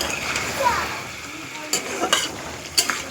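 Beef cooking down in its own released juices for village-style kachi biryani, heard as a close, continuous sizzle with a few sharp stirring scrapes of a utensil against the pot.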